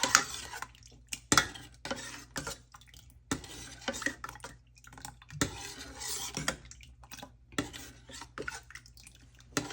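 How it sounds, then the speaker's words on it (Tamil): Coconut milk thickened with a flour paste is stirred in a pot, giving repeated close scraping and knocking of a spoon against the metal in an uneven rhythm. "ஊற்றி நல்லா கிளறுங்கோ."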